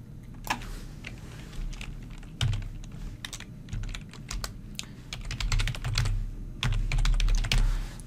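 Close, brisk typing on a computer keyboard while writing an email, with irregular bursts of key clicks and occasional heavier thumps over a low background hum.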